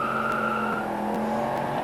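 A 1969 Chevrolet Camaro Z28 engine rumbles steadily through deep-toned mufflers, a loud continuous exhaust drone with a high whining edge and slight pulsing, with no one speaking.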